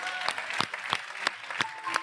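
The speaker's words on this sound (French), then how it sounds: "On l'applaudit très fort" A television game-show studio audience claps in unison, with sharp, evenly spaced beats about three per second throughout.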